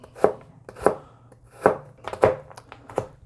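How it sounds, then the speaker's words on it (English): A kitchen knife chops carrots on a cutting board for Korean japchae, with about six sharp, close knocks at an uneven, unhurried pace. "We're gonna start off here by cutting our carrots."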